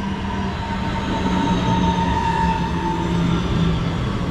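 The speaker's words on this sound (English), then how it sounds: "We'll wait for our train to arrive in." Class 323 electric multiple unit pulling into Gravelly Hill station, a loud steady rolling drone with a sustained whining tone throughout, close by and without speech.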